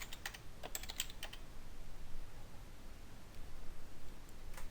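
Typing on a computer keyboard while entering names into a user form, a steady run of quick clicky keystrokes close up, with short pauses and bursts.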